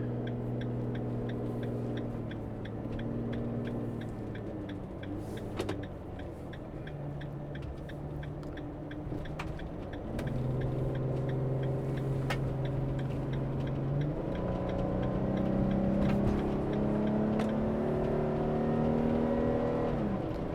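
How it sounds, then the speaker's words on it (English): Car engine drones steadily while driving on California highway 92 toward Half Moon Bay, a low hum with shifting tones as the vehicle accelerates, faint ticking above it, no talk. "It's going to be interesting to see what the engine noise is like."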